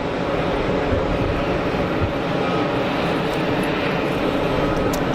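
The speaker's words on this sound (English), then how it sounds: "I see an aircraft on final right now. That's going to be the EasyJet Neo." An EasyJet Airbus A321neo approaches Geneva Airport on final, heard as a steady, broad roar of jet noise that stays loud and even throughout.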